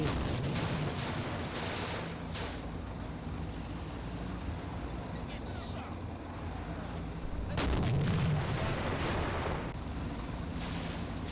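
Artillery volley in the World War II desert strategy game Combat Mission: Afrika Korps, several heavy booms and blasts spread across the stretch over a continuous rumbling battle din, with a sharper burst of shots near the end.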